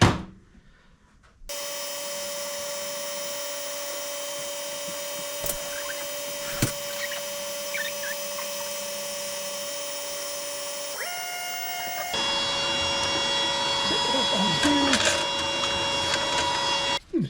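A laser cutter runs on thin plywood with a steady mechanical hum and whine. A faint tick or two sounds partway through, then the tone shifts and the machine grows slightly louder and busier toward the end.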